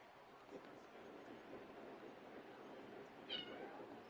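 A house cat lets out one short meow near the end, faint against a steady background hiss.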